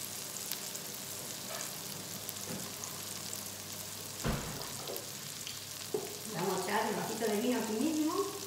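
White wine poured into tomato sauce simmering in a pan, a quiet steady bubbling sizzle with a sharp burst partway through and louder hissing near the end.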